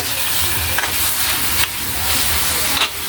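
Chicken tinola with black pepper is stirred in a hot pan, giving a loud, continuous sizzling hiss with a few soft scraping strokes of the spoon.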